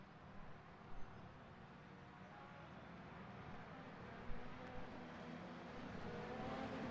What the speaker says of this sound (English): it sounds like there are some higher revs